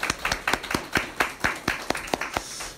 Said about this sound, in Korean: 격려하면서 박수 한번 할까요?